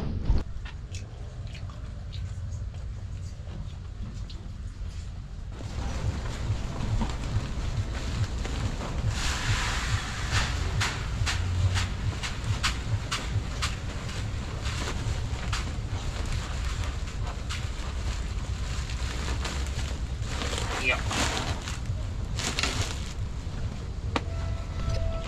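A farm engine, likely a boat or pump motor, starts after a quiet stretch and then runs steadily with a continuous low rumble, mixed with wind buffeting on the microphone.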